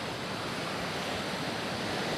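Sea waves washing onto a beach on a fishing morning: a steady, broad roar of surf, fairly close and unbroken, with some wind mixed in and no voices.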